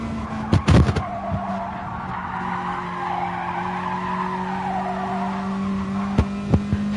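Race cars in a TCR championship racing video game brake hard with loud, sustained tire squeal and skidding over steady engine drone, with a couple of sharp clicks near the start and end.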